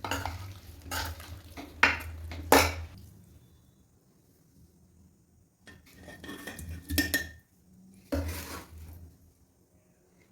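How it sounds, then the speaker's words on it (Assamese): Nutmeg pickle is spooned into a glass jar, with several sharp clinks and scrapes of spoon against glass separated by quiet pauses, close and clear. "আৰু মই এইটো বৈয়ামত ভৰাম"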